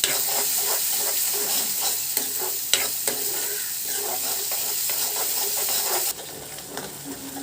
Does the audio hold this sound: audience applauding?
no